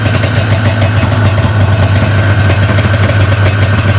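A snowmobile engine idles steadily at close range, a continuous low throbbing rumble with a constant pitch that fills the whole stretch without a break.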